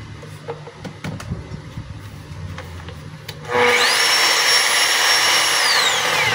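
A DeWalt D25481 rotary hammer, a 5 kg jackhammer-class drill, switches on after a few seconds of quiet room noise and spins in drill mode with a loud, steady whine that holds to the end.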